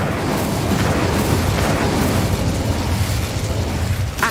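In the Hogwarts Legacy video game, an Incendio fire spell produces a loud, continuous rushing roar of flame lasting several seconds without pause.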